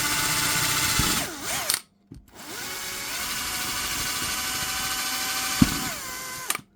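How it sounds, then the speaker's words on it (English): A 3mm bit in an electric drill bores holes through steel plate for a 1/14 scale CAT 973K model, whining loudly and steadily with a brief pause and restart. "I'm now going to drill the holes carefully"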